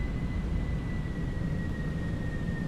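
An airliner's engines hum in a steady droning roar with a faint high whine on top, from the X-Plane 12.1 flight simulator game, constant and even throughout.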